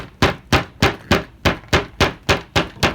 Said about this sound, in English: Just gonna tap this back down.